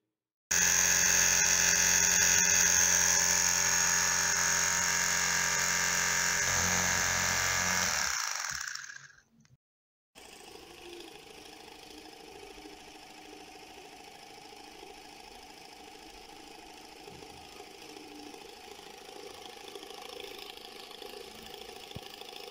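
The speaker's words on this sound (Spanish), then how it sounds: "Esta es una muestra del funcionamiento de ambos motores." Two experimental electromagnetic motors whir with a loud, steady, high-pitched buzz that cuts off after about nine seconds, and then a quieter hum continues alone.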